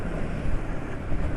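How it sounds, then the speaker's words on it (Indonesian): A moped's engine runs on Repsol Moto 4T oil, a steady low rumbling idle close to the microphone with a little wind noise and no talking. "Suara mesin"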